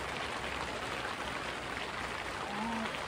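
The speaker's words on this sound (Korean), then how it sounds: "근데 날씨가 비가 와가지고" Rain falling outside a trekking lodge in the Himalayas on the Mardi Himal route, a steady soft hiss of drops with no talk.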